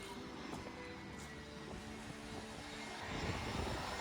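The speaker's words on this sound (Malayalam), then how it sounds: "ഇതാ ഒരു ഫ്ലൈറ്റ് വരുന്നത് നമുക്ക് കാണാൻ പറ്റും" A distant airplane approaching an airport drones steadily, a low rumbling engine hum that swells a little louder near the end, with no one speaking.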